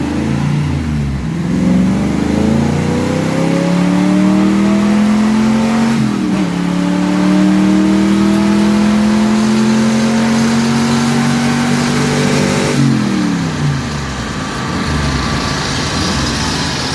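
A car engine on a dyno revs hard during a pull, loud rising harmonics that climb, drop briefly at a shift, then climb again before easing off, close and dominant with no voices.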